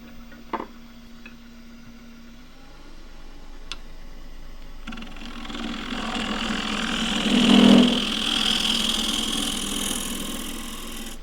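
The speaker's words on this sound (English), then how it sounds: "A little bit of vibration there is because this is not absolutely secure on the chuck" A wood lathe turns a wig stand held loosely in its chuck, giving a steady whirring hum that swells into a louder rough vibration midway, then settles to a continuous drone, with an early faint click.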